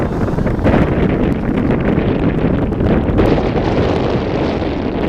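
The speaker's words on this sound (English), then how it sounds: "Wind is now blowing." Steady wind gusts buffet an open microphone at an outdoor freshman football game, a continuous loud rushing roar filling the whole stretch without a break.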